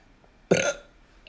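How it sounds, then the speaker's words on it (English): A single loud, close burp forced out on command, lasting about a quarter second before trailing off, with no other sound around it. "Always makes me sick when I burp on command, because like not all the air always comes up in one belch"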